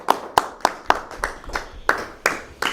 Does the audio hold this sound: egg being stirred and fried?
no